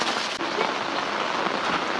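Rain falls steadily on a village near Sialkot in Punjab, a continuous even patter and hiss that sounds close, with one brief dip near the start and no voices.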